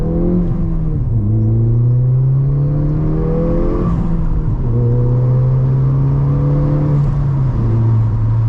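A modified Ford Fiesta ST3 Mountune pulls hard on a bypass, its engine revving up through the gears with clear drops at each shift, loud and steady from inside the cabin.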